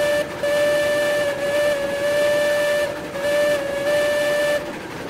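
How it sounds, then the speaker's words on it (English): Steam locomotive whistle in the train game Railroads Online, sounding a few long, loud, steady blasts with short breaks between them over a constant background hiss. "Blow the whistle a little bit"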